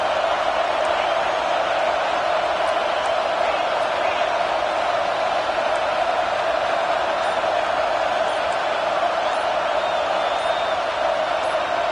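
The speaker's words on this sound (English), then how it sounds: "with this place rocking, the crowd forces a false start" A packed stadium crowd at a college football game against Penn State roars in a dense, unbroken wall of noise that stays loud and steady throughout.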